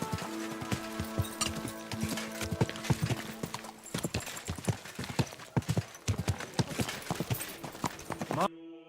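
Rhythmic clip-clop of hooves from a horse trotting at a steady pace in Kingdom Come: Deliverance II, close and clear, with a brief whinny and game music tones in the background.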